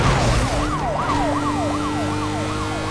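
Police sirens wail in Need for Speed Most Wanted, a loud rising-and-falling tone repeating steadily over a constant engine and road rumble.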